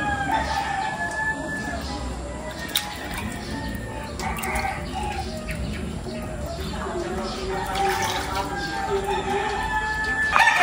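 A native rooster crows faintly in a rural yard, a few drawn-out calls over a steady background hiss, with a person speaking at times.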